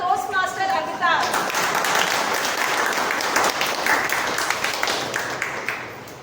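A Toastmasters club audience applauds to welcome a speaker. A brief voice opens the moment, then full, sustained clapping from the room takes over and gradually thins toward the end.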